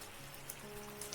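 Soft, steady rain falls as a quiet, even patter with a faint continuous hiss and occasional slightly louder drops, no voices present.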